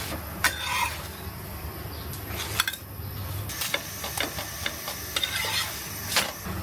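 A paratha fries in a little oil in a pan and is pressed down repeatedly, giving a low sizzle broken by sharp scrapes and clinks of the utensil against the pan.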